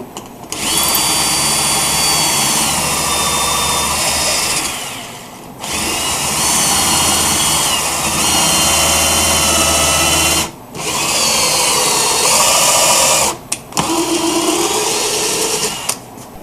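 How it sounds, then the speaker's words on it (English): Power drill boring holes through a piece of wood in a wood shop, loud high whine in three long sustained bursts with brief pauses between, no talking. "we're going to do our drill"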